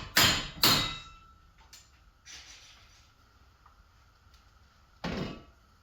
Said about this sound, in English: Yes, this is a hammer too.